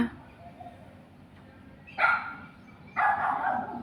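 A dog barks outdoors in two loud bursts with a quieter yip between, close by, over a faint background and no talk.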